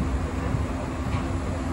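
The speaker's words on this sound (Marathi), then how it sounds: "ट्रेन सुटली आपली." Inside a train as it starts to move, a steady loud low rumble and hum of the carriage with constant broadband rolling noise.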